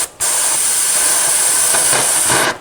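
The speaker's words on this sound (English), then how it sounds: "until all that pressure, that steam is released. Until all the steam is released, and then we'll open the pot." Steam hisses hard and steadily out of a pressure cooker as its valve is tapped to release pressure while Guyanese-style souse cooks. The jet is loud, close and unbroken for about two seconds, then cuts off.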